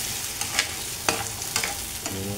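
Hotdogs frying in a small amount of oil in a home kitchen pan, a steady close sizzle with a few sharp scraping taps from stirring.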